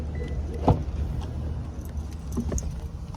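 Car keys jangle with a few sharp metallic clinks at close range, over a low rumble of vehicle and room noise, and no one talks.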